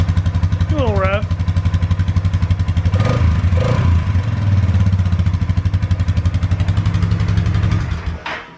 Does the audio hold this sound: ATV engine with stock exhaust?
yes